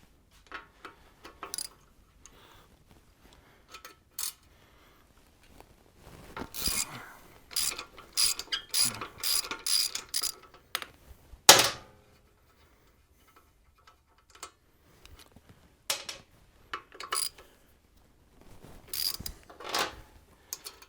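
A ratchet removes the fender bolts on a Harley-Davidson Sportster motorcycle, giving close, rapid clicking bursts with metallic handling clatter and pauses between strokes.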